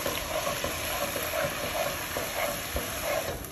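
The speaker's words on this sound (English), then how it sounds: "we're gonna deglaze our pan here with our white wine" White wine hits a hot pan of beef liver fried in oil with flour, releasing a loud, dense, continuous hiss and sizzle as the pan is stirred.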